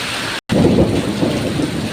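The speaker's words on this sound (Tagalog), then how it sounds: "Lakas pa ng kulog." Thunder rumbling through a heavy, dark downpour beside a road with slow-moving traffic, a broad low roll over the constant hiss of rain, briefly cut out near the start.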